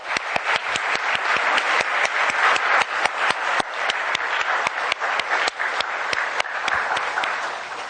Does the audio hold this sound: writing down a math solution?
no